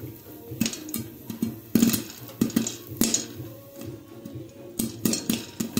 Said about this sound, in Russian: как хлопится попкорн